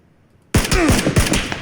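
Rapid bursts of gunfire from the battle royale game PUBG (Battlegrounds), erupting suddenly after near silence and repeating in loud, dense volleys over a second or so.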